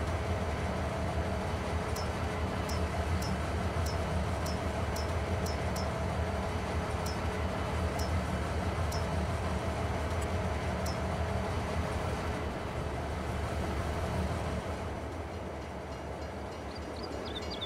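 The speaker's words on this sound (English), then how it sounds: "it's an electric train, but it sounds like a diesel engine running" An electric train in a Farm Sim video game rumbles steadily with a low, diesel-like engine drone, short high clicks sounding at intervals, and the noise eases off near the end.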